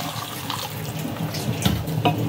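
Water pours steadily into a pan of sautéed tomatoes and salt for semiya rava upma, a close, continuous splashing stream with no talking.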